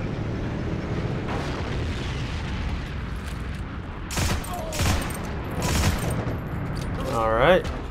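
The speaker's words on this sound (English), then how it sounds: "Its power lies in the RPM, being able to lay down multiple bullets very quickly on your target." M2 rifle firing rapidly in the game Heroes and Generals, several sharp bursts of gunfire against a steady battlefield rumble, with a louder cluster of shots and a rising whine near the end.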